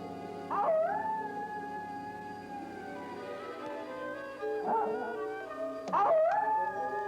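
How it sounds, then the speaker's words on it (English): Several drawn-out coyote howls rise and waver, overlapping into a chorus, with renewed yips and howls near the end; fairly close and clear. "The howls of his family alert him to come quickly."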